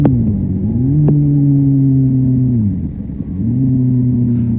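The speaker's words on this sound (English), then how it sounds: "he's revving the motor, but the clutch release is so slow he loses all the revs from his throttle blip" A motorcycle engine rumbles and revs during a downshift, with a quick throttle blip lifting the pitch before it sags back, then another rise as the revs hold steady; close and loud, no talk.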